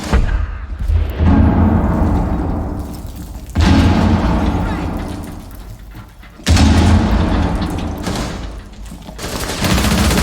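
A frag grenade explodes in the video game Rainbow Six Siege, giving several heavy booms that each tail off into a long rumble, with gunfire between them.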